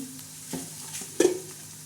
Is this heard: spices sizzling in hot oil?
yes